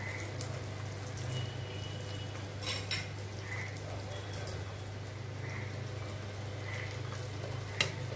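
Metal dishes clink and clatter in a kitchen as steamed ragi puttu is moved into a bowl; a few sharp knocks stand out over a steady low hum.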